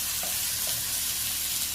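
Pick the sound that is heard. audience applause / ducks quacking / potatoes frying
potatoes frying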